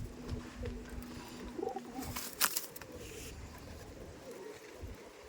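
Tournament-quality Madrasi pigeons coo softly in a loft, a few low throaty calls over steady background noise, with a brief sharper burst in the middle.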